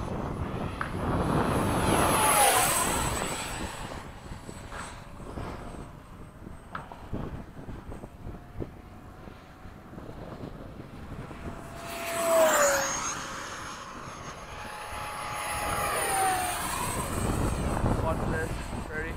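Electric RC model jets with ducted fans, an F-4 and an F/A-18, make a whooshing, whining roar that rises and fades as they pass overhead outdoors, then grows again, with wind noise.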